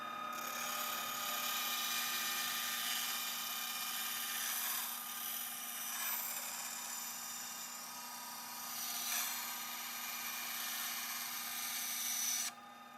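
Vigo Power 9-inch bandsaw slicing through extruded aluminum, a steady, close metallic whine with a ringing tonal hum that holds evenly for several seconds, wavering slightly in strength before cutting off abruptly near the end.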